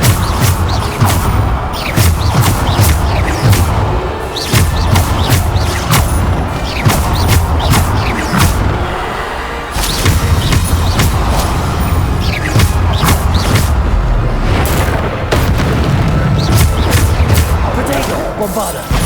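Bombarda spell explosions in the video game Hogwarts Legacy sound as repeated sharp blasts and crashes in dense combat, loud and continuous, with background music and spoken lines mixed in.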